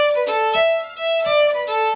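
A fiddle plays a jig phrase with some notes slurred together, giving a smoother, lilting long-short swing, bright and close.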